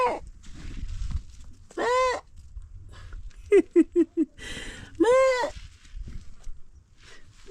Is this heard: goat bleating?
yes